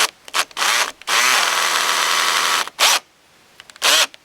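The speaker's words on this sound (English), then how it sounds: "Now, just screw these cross pieces in." Power drill driving screws into pallet wood cross pieces while building a chair: several short whirring bursts, then one long sustained run and a few more brief bursts, loud and close with no talking.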